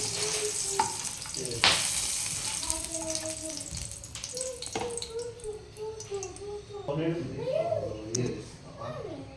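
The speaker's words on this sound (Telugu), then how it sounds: "తర్వాత మిర్చి వేసుకున్నా. మిర్చి కూడా మంచిగా డీప్ ఫ్రై అవ్వాలి." Chillies deep fry in hot oil for gongura chutney with a constant crackling sizzle and occasional stirring scrapes, while someone talks over the cooking.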